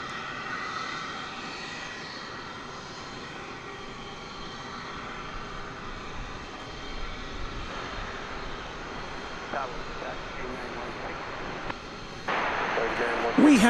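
A jet airliner taxis at DFW Airport, its engines giving a steady, broad distant roar that swells slightly near the end, with someone talking over it.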